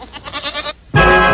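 A goat bleats in a short wavering call, followed after a brief pause by a loud burst of brassy sound cutting in abruptly.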